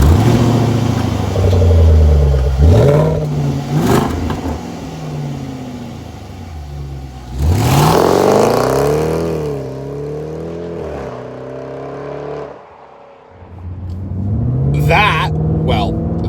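Jaguar F-Pace SVR 575 V8 roaring through a quad-exit exhaust, loud revs rising and falling in several bursts with a deep rumble between them, with someone talking over parts of it.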